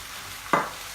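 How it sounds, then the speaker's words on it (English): Frozen diced mixed vegetables of carrot, corn and peas hitting a hot pan of fried rice, one sudden loud sizzling burst that quickly fades against steady background hiss. "The next thing I'm going to add is I've got 2 cups of frozen mixed vegetables, and they've already been diced."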